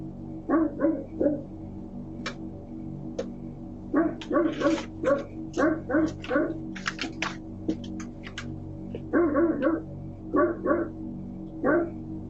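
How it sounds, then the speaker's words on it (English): A dog barks in bursts of sharp yaps, heard in the background of a doorbell camera recording at a house at 5 AM, repeating through the recording with short pauses, and no one speaks. "a dog barking in the background can be heard."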